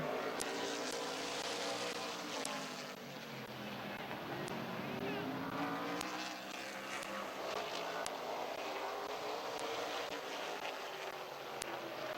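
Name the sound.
race cars accelerating at green flag, Midvale Speedway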